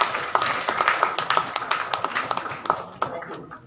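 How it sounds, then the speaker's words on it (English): A hospital team is applauded by a small audience at a neonatal critical care nursing event, with a short run of scattered, fairly close hand claps at uneven rhythm that tapers off near the end. "I request a big round of applause for this team."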